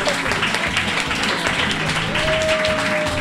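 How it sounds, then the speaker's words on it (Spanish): Audience applause fills the clip with steady, dense clapping from a crowd, loud and continuous for its whole length, with a faint voice or tone partly audible underneath. "Un aplauso, por favor, a nuestra amiga."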